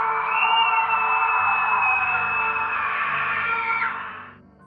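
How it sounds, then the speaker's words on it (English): Panicked screaming from a street comes through a headset as one long, sustained, shrill wail. It holds steady for several seconds, then fades out, sounding thin and filtered. "From every headset, I could hear the panic screams of Noykair Street."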